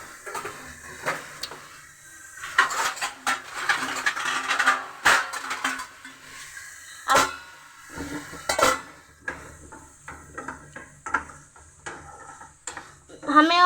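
Idli shakshuka, made without onion and garlic, is stirred and mixed in a pan: a utensil scrapes and clinks against the metal in uneven bursts, close and fairly loud, with a person speaking now and then.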